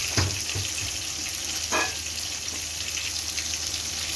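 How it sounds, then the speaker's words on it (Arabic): Fish-marinated rice dish sizzles in a hot pan as it is stirred, a steady bright frying hiss with a few scraping stirs, close and without talking. "شوح اهو سامعين الفشفشه"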